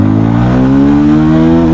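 A Bajaj Pulsar 220F motorcycle pulls away hard, its engine note climbing steadily in pitch as it accelerates, loud and close with no voices.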